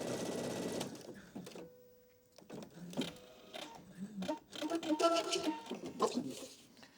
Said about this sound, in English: We're going to do another seam on the other side of the tear.